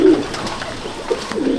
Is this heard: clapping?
no